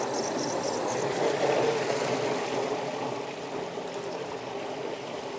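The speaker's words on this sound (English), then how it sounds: "This is the Hollander. Don't operate with the lid off." A Hollander beater churning soaked, cooked paper fibre in a studio, giving a steady, continuous rumbling wash of machine noise and sloshing water, fairly loud and unbroken throughout.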